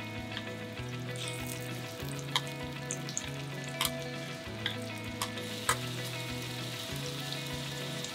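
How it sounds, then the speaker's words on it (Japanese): Shrimp fry in shrimp oil in a pan over high heat, giving a continuous sizzle with light pops and occasional sharp crackles, fairly quiet and without talking. "これを加えてフライパンを強火にしてエビをひいていきます。"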